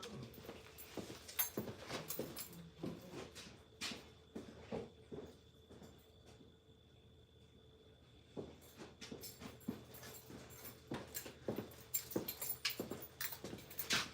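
A Bernese mountain dog trying to escape nearby, heard as intermittent whines and scrabbling, clattering bursts at a moderate distance, with a quieter lull midway before the restless noise resumes.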